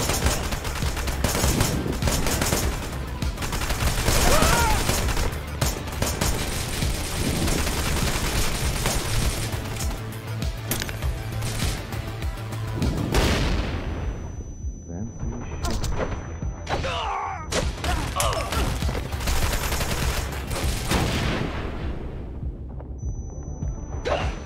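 Sustained gunfire in the game Wanted: Dead on PC, long stretches of rapid automatic shots and bursts with booms, thinning to sporadic shots later with brief quiet gaps.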